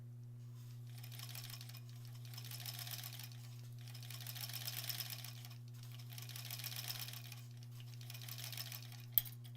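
A domestic sewing machine runs in four steady stitching bursts, about two seconds each, with short pauses between them, while a quilt block is pieced. A strong low electrical hum continues underneath throughout, and a single sharp click comes near the end.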